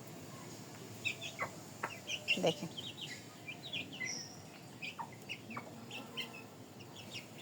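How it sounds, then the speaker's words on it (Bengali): Young chicks fed on rice cluck and peep in soft, scattered calls around a farmyard, with a brief spoken word in the middle. "দেখেন এই যে মুরগির বাচ্চাগুলো"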